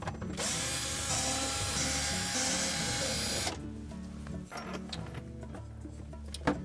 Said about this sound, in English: Next, we'll remove the screws from the discharge cover on the pump.